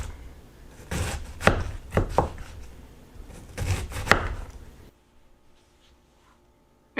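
Knife chopping onions and vegetables on a board for Tuscan kale soup, two bursts of close, irregular thudding cuts, then near silence.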